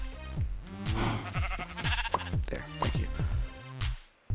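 Sheep in Minecraft bleat repeatedly and loudly at close range, a rapid run of wavering baas overlapping one another in a modded survival world, with little else around them.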